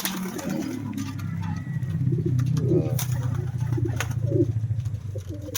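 Pigeons coo softly in a low, rolling murmur over steady background rumble, with faint chirps and rustling nearby.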